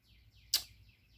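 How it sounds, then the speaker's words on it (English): Soft bird chirps repeat outdoors in the background, faint and steady, with one brief louder burst in the middle. "birds are chirping outside."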